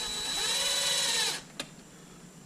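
A power drill whirs steadily for about a second and a half while driving screws into the mount of a carbon fiber driveshaft on an Arrma Limitless RC car, then stops, leaving a single sharp click after.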